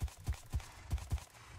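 Horse hooves in the Minecraft video game clip-clop in a quick, even series of about five soft thuds, fairly faint against a low background hiss.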